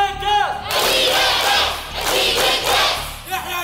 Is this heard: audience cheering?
yes